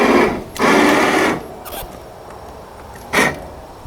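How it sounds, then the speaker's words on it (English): An ATV plow winch motor whirs in a few short bursts of steady mechanical buzz, a long pull followed by a brief blip and another short run, close by with quiet gaps between. "Let's see if the winch works."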